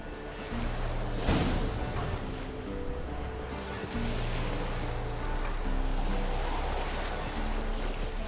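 A boat moves across a lake in The Witcher 3 with a constant wash of water and wind, a brief louder splash near the start, and then the steady lapping continuing evenly with no voices.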